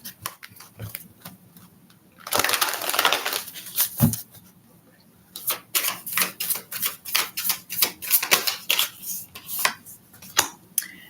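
Riffling card shuffles: a burst of rapid flutter, then a run of quick crisp snaps and taps at close range, with quiet gaps between.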